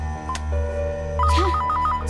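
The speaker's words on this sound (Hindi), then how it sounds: "किसका फोन है?" A telephone rings with short repeating electronic trills, fairly close and clear over a low background hum, with no talk.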